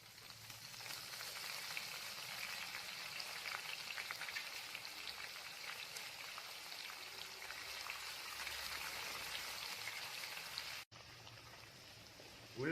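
Chopped onion sautéing in a pan for a lemon moong dal, a steady, even sizzle and crackle that continues unbroken, close and moderately loud, with a brief break near the end.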